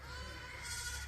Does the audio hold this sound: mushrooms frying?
no